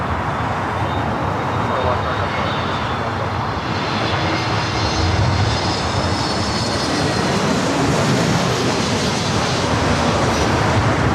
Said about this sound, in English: The second KLM Dreamliner heading up here for a north side takeoff, flight 604.